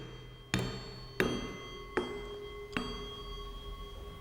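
Homemade jal tarang bowls struck with a stick, four evenly spaced clear metallic strikes, each leaving a sustained ringing tone, close and moderately loud without speech.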